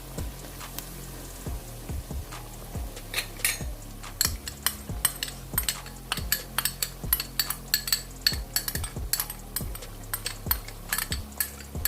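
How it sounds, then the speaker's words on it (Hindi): A spoon stirs tomato paste into chicken gravy in a pan, making a close, steady run of metallic scrapes and clinks in a loose rhythm, with no voices. "टमाटर का पेस्ट ऐड करने के बाद इसमें मैं थोड़ा सा चम्मच हिला दूंगी"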